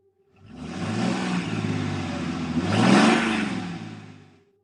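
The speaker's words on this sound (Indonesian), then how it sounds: "Suara mobil tua kami meraung di jalanan rusak." An old car's engine roars up loudly on a damaged road, revving to a peak before fading away, a rough rising-and-falling drone with a slight whine.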